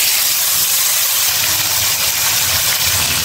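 Vegetables hit hot fish-frying oil seasoned with cumin and radhuni, giving a loud, sustained hiss and roar up close with no talk.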